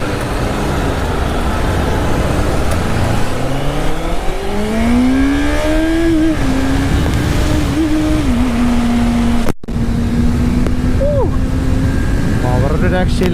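Honda CBR650F four-cylinder motorcycle pulling hard from low speed, its engine note climbing through the gears, then holding a steady drone before revving again. A rider's voice speaks over the engine and wind.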